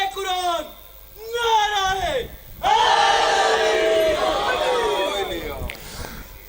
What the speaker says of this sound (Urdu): یہاں ہمیشہ نعرے ایسے لگتے ہیں یا آج ایسے لگ رہے ہیں؟